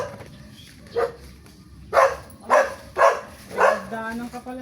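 A dog barks noisily in a rapid run of four sharp, fairly loud barks outdoors in a Filipino neighbourhood yard by a mango tree, following an earlier single yelp, with quiet background noise.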